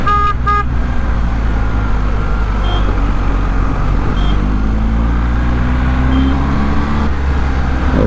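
A black BMW R 1250 GS motorcycle riding through traffic, its engine droning steadily and loudly throughout, with a car horn tooting nearby at the start and brief honks later.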